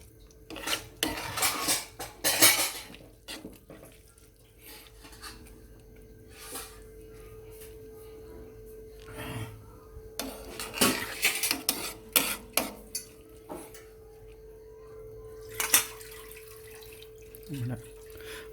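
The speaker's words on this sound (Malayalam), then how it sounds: "ഇവിടെ വറുത്ത് വച്ചിരിക്കുന്ന മുന്തിയും കശുവണ്ടി പരിപ്പും ഇത് മുകളിലിടാം." A spoon scrapes and clinks against a metal pressure cooker and dish while fried raisins and cashews are added on top of Malabar biryani, in scattered bursts of metallic clatter between quieter pauses with a faint steady hum.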